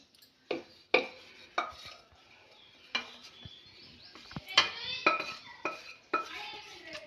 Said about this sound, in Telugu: ఇప్పుడు పోపు పెట్టుకుందాం